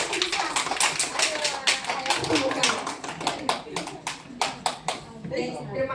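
A group of seated participants at a training session doing a rhythmic clapping game, sharp claps in quick patterned bursts repeating throughout, close and clear, with a voice talking between the clapping.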